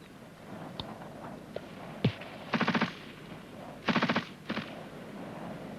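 Machine-gun covering fire during a British Army section fire-and-manoeuvre exercise, heard as two clear bursts of rapid shots with a few short bursts and single shots around them, moderately near.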